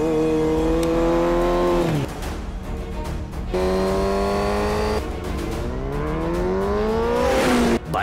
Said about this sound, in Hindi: यामाहा R1 बाइक हेलमेट के साथ क्रॉस कर रहा है